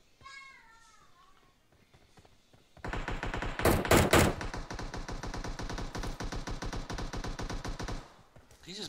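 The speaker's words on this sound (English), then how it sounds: "He's just busting shots to bust shots" Rapid automatic gunfire in the PUBG Mobile battle royale game rattles in dense bursts for several seconds, loud and close, with a heavier cluster early on and players' voices under the shooting.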